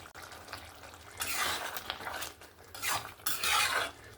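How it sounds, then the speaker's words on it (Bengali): A spoon scrapes and stirs through matar paneer curry with potatoes and fresh coriander leaves in a pan, making soft metallic clinks and swishing bursts in uneven strokes at close range, fairly quiet. "ধনেপাতাটা দিয়েও আমি ভালো করে নাড়াচাড়া করে নিলাম।"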